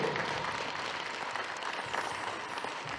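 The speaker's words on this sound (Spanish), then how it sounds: "¡Aplausos para la novia, fuerte!" Wedding guests clap for the bride at a reception, a soft, steady wash of many hands applauding in a room, moderately distant and continuous.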